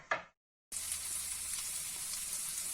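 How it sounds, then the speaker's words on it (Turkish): Chopped liver frying in a pan, a brief stir before a short silence, then a bright, steady sizzle that runs on evenly close by. "Evet şimdi ciğerimiz hepsi kavruldu."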